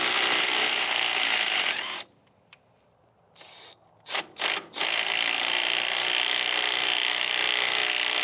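A Milwaukee right-angle impact wrench hammers on the radiator support bolts of a 1952 Caterpillar D2 bulldozer, a loud continuous rattling burst that drops to a quiet pause, then short bursts before another sustained run, with no speech.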